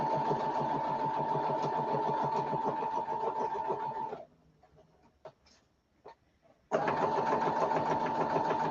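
A sewing machine stitching with bobbin thread runs in a steady, loud mechanical whir, pauses for a few seconds with small handling clicks, then starts again at full speed.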